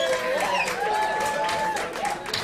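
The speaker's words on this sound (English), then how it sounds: "How about a round of applause for Lady and Steve and folks for getting this together?" Audience applause and cheering at a live sideshow music night in Richmond, Virginia, a dense continuous wash of clapping with whoops and voices rising over it.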